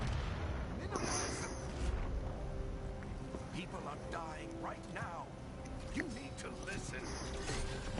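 Gunfire and explosions in the video game Dragon Age: The Veilguard, a dense, continuous roar of shots and booms under voices throughout.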